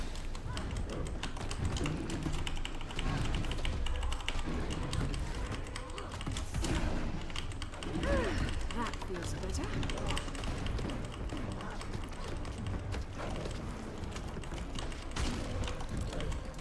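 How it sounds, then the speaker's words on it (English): Computer keyboard typing during a Guild Wars 2 game stream, a continuous patter of quick clicky keystrokes close to the microphone that runs throughout the clip, with occasional louder bursts. "I hope the keyboard is still not too distracting, by the way"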